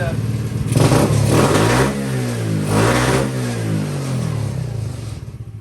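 A Honda C110 motorcycle engine, just after a carburetor and throttle-cable adjustment, revs up and down in a couple of close, loud swells before settling back toward idle.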